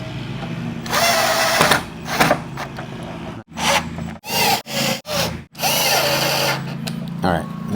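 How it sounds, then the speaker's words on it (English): Power drill whirring in repeated bursts while driving screws to fasten a Toyota Tundra grille with Raptor-style lights, several long runs followed by short pulsed triggers, close and loud with no talk. "grab our screws now, and So we'll just start securing this back down."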